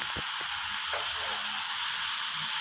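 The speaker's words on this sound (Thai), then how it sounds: "แล้วก็ผัด คลุกเคล้าไปสักหน่อยนะครับเนี่ย" Cabbage stir-fries with fish sauce sweetened with sugar, giving a loud, unbroken frying hiss with a few soft knocks of stirring underneath.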